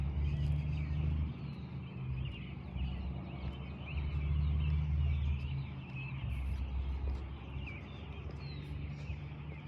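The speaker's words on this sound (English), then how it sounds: "I'm hearing engine sounds over here when I step on the street" Steady low rumble of road traffic, a car engine droning past on a nearby street with a faint background hiss.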